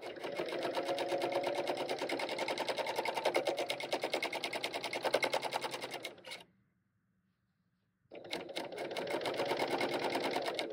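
A sewing machine runs fast and rhythmically while stitching quilt binding, a close, loud mechanical whir that stops for about two seconds and then starts again.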